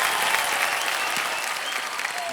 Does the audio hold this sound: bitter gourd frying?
no